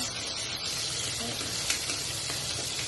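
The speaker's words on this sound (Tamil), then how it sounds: "இப்போ வெங்காயமெல்லாம் பொரிஞ்சிருச்சு நல்லா" Onions fry in oil in a pan, giving a continuous, dense, crackling sizzle heard up close at moderate volume with no other sound over it.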